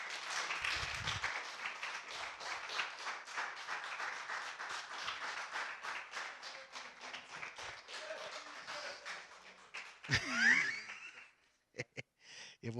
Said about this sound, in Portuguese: vamos recebê-los com uma grande salva de palmas